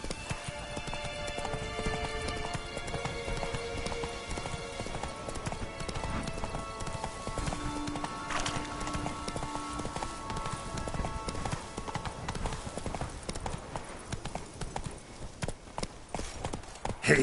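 Roach, a horse in The Witcher 3 video game, gallops with rapid, continuous clip-clop hoofbeats over game music and ambience, steady and moderately loud throughout, with a brief whinny-like tone partway through.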